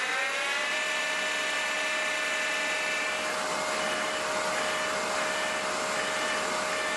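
Pen-turning lathe spinning at about 3,200 RPM, a steady close whine with sustained tonal hum running continuously without speech.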